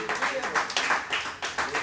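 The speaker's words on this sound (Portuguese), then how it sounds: "Aplauda o Senhor." A church congregation claps in a quick, steady rhythm, with bright bursts roughly three times a second and voices underneath.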